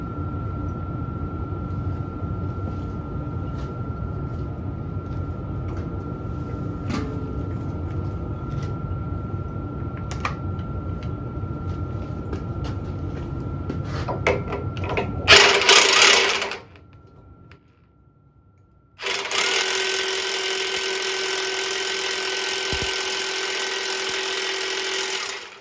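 A hydraulic press works a part onto a 12 bolt truck rear end, giving a steady droning machine hum, then a sharp hissing burst, a brief lull, and a loud sustained high whine.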